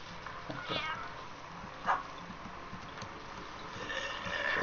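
Cats meow in the video game American McGee's Grim, a few short cries spread across the stretch and a louder one near the end, set over a dim rumbling background with voices talking.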